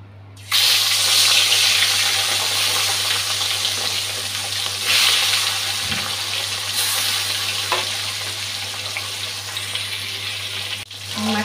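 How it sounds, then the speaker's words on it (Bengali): Pieces of katla fish frying in hot oil in a Bengali home kitchen, a loud continuous sizzle with a faint low hum beneath and a few brief clatters. "মাছটা ভাজতে দিয়ে দিচ্ছি।"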